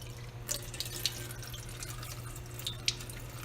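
Curd tipped into a bowl of cold water to halt cooking, giving soft splashes and trickling pours with a few sharper drips over a steady low hum, fairly quiet and close with no talking.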